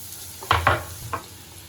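Onion tipped into melted butter and oil in a pan for broccoli soup, giving a couple of quick close sizzling bursts with stirring scrapes, then a softer sizzle fading under a low background hum.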